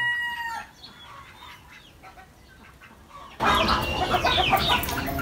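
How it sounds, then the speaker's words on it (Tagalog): Chickens clucking nearby in rural Nueva Ecija, Philippines, quiet and scattered at first, then a sudden louder, busy stretch of clucking and squawking from several birds. "may mga manok"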